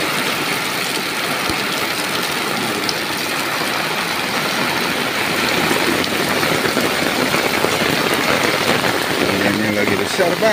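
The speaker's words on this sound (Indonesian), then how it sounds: "Kita lihat suasana hujan di desa." Heavy afternoon rain falls on a village in Cirebon, a dense, steady hiss of drops on surfaces that grows slightly heavier partway through, with a faint engine hum and voices beneath it.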